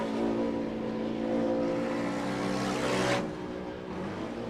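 Side-by-side UTV race car at Durhamtown drifting through a corner, engine roaring loud and steady close by, then easing off slightly as it slides past.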